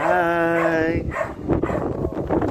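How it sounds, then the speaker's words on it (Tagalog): Beauty, a pet dog in Parañaque, gives a drawn-out, high whine followed by a few short, close barks and yips. "Binisita ko yung aking alagang aso"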